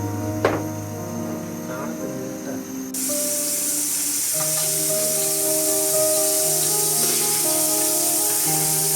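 Ghee poured into a rice pot on a gas stove bursts into a loud, steady sizzle about a third of the way in and keeps hissing, with music playing underneath.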